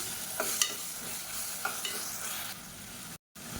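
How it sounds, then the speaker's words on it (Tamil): A ginger, garlic and shallot paste frying with onion in hot oil gives a steady close sizzle broken by a few scraping stirs of a spoon, with no talk over it. "இப்போ இஞ்சி பூண்டு பேஸ்ட்டு வதங்கிட்டு இருக்கு."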